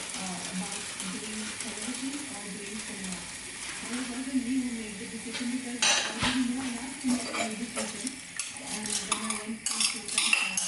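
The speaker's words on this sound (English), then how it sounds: "I'm just draining the soaked and washed rice and then adding it to this boiling water" Utensils clink and scrape against a metal pot as soaked, washed rice goes into boiling water, which bubbles steadily, with a low hum underneath and a clatter toward the end.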